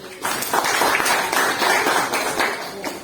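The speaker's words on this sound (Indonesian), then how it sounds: "Tepuk tangan untuk jalan benar lagi." A classroom of pupils clapping together in a short burst of rhythmic applause, close and lively.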